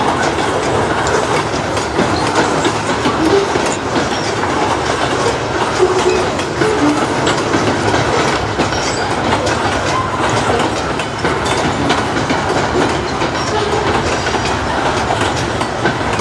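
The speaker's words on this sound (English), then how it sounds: "This is an industrial train, not on the main tracks." An industrial freight train of white hopper cars rolls past up close behind GP38-2 and GP9RM locomotives, a steady loud rumble with rhythmic wheel clatter and faint squeals, constant throughout and without talk.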